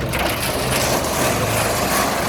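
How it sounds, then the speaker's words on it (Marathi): A turmeric polishing machine with a rotating rod runs with a dense, continuous grinding rattle, loud and steady throughout. "पॉलिश मशीन चालू झाली"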